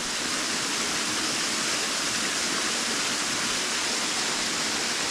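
Water pours steadily over the top of Routin Linn waterfall, a constant, even rushing hiss that holds unchanged throughout, close and fairly loud with no voices.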